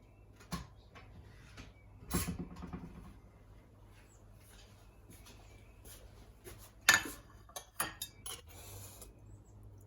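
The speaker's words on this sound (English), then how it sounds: "Now I'm going to get myself a little plate. And a knife and a fork." A plate, knife and fork gathered in a kitchen: a few scattered clinks, a cupboard thud and clattering handling noises separated by quiet gaps, close by with no talk.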